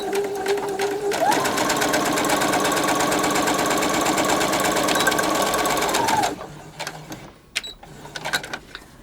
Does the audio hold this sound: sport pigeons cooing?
no